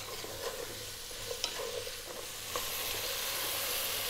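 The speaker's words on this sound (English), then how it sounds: "5 minutes on a fairly lively high heat, stirring often." Food in a stock pot sizzles steadily over lively high heat for fish stock, with occasional stirring clinks and scrapes near the start, then an even, close hiss with no voices.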